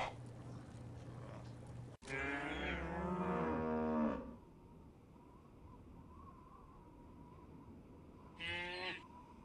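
Cow in the video game Postal 2: Apocalypse Weekend lets out a long, loud, close moo that lasts about two seconds, followed by a quieter stretch and then a second shorter moo near the end.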